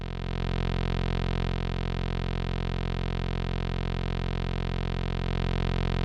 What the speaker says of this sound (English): now this is our pulse that we're hearing